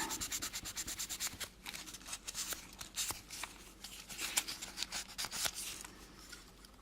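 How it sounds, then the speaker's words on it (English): Fine sandpaper is rubbed along an edge on a model kit build, a quiet, rapid rhythmic scratching of short back-and-forth strokes that continues throughout. "And a little fine sandpaper here."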